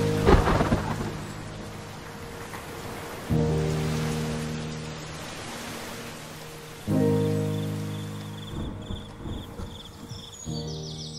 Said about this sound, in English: Suddenly started raining and the weather is so good.